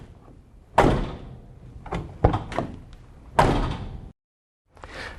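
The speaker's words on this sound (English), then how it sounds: "As I close the door, the tightness of the cab to the point where those strips of paper illustrate the" The cab door of an International 7700i dump truck closes: several close thuds and a heavy slam, with handling knocks between them and a brief silence before more movement.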